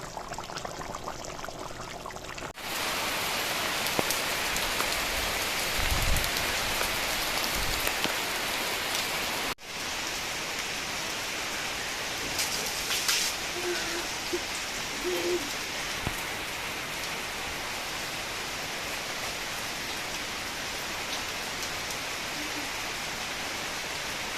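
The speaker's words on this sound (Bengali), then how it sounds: "বাইরেটা পুরো অন্ধকার হয়ে আসলো কারেন্টও চলে গেল তো মনে হচ্ছে এবার জোর তার বৃষ্টি আসবে" Heavy rain pours steadily outside during a power cut, a dense, close hiss that continues without a break. A brief gap comes early, then the downpour returns, with faint distant tones in the background and no voices.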